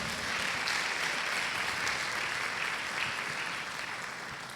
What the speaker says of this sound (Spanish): Dele un aplauso al Señor, no se quede con la gana